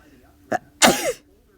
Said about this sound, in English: Do I have to sneeze again?